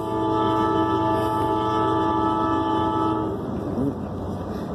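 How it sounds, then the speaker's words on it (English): A freight train led by locomotives FURX 7195 and 8159 rumbles past close by, a steady heavy roar of rolling cars with a sustained horn tone that fades toward the end. "comes the train right now."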